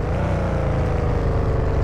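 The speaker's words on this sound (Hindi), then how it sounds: "आवाज पूरी की पूरी एकदम सेम आ रही है गाड़ी की" A supercar engine in the Car For Trade Dealer simulator video game drones steadily and loudly at a constant low pitch, with no talk over it.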